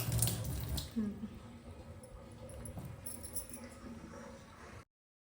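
A washbasin tap in a home lets out a weak trickle of water, heard close and fairly quiet alongside light clattering, before the sound cuts off abruptly near the end.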